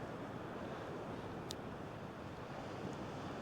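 Steady wind buffets a night-time seashore where sea fishing is under way, a constant broadband roar with surf mixed in, heard alone with no voices.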